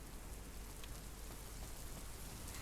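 Steady rain fills a scene in the ninja action game TONIN Bunny Kunoichi, a dense even hiss of drops on surfaces with no talk, constant and moderately quiet throughout.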